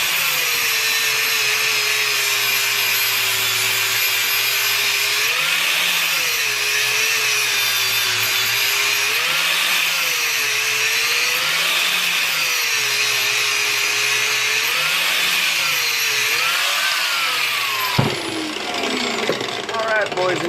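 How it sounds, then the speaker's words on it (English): A power grinder smooths a metal piece for a bearproof bird feeder, a loud, steady high-pitched whine that rises and dips rhythmically as it is worked against the metal, then winds down near the end. "we're going to give it another quick grind"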